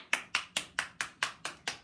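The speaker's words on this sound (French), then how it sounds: "tu es le grand gagnant de ce concours, on peut t'applaudir" A single person claps hands eight times in an even, brisk rhythm, each clap sharp and close but fairly soft, with quiet gaps between them.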